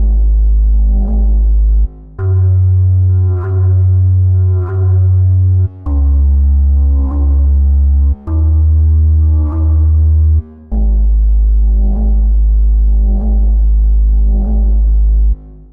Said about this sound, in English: Ooh, I love a good didgeridoo.